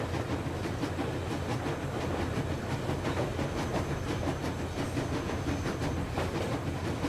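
The armored train Aurora from the video game Metro Exodus rolls along with a continuous loud rumble and rhythmic clickety-clack of wheels over rails, steady and close throughout.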